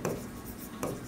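Pen writing a ledger entry on paper for a school accounting lesson, two short bursts of scratchy strokes at the start and near the end, close and quiet.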